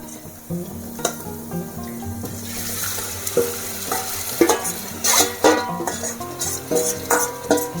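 Fish frying in oil over already-fried onions for an Andhra-style fish curry, a steady sizzle broken by stirring clatters and spoon scrapes, with a low continuous hum underneath, close and fairly loud.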